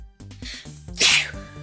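A single sharp sneeze, a brief intake followed by a loud explosive burst, close and alone.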